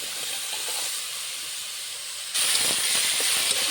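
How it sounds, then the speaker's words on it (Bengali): Vegetables, potato, aubergine and radish seasoned with salt and turmeric, frying in a pan uncovered: a steady, loud broadband hiss and sizzle throughout that grows louder partway through, with no talking. "সবজিটা ভালো করে ভেজে নিচ্ছি।"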